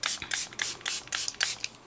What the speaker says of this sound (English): So this is a very, very fine mister.